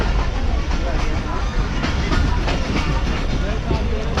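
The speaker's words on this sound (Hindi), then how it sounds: "बलोच कॉलोनी के एरिया के पास से गुजर रही है ट्रेन इस वक्त" The Karachi Express rolling along the rails near Baloch Colony in heavy rain, a dense, steady rumble with rhythmic clatter of wheels over track joints, loud and close throughout.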